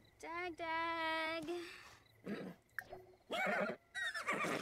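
Horse whinnies clearly in The Sims, a long quavering neigh up front followed by shorter snorts and calls, with a person talking over parts of it.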